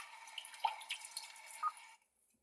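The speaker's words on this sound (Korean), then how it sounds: "비 오는 소리라든가" Soft, faint patter of recorded rain with scattered drips from a Hyundai Palisade infotainment system, steady and gentle, fading out abruptly near the end.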